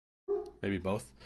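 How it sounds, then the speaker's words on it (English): A pet dog barks excitedly at a package delivery: a short burst of two or three close, loud yaps with a voice speaking over them. "Apologies for my dog. She's excited about a package that's being delivered."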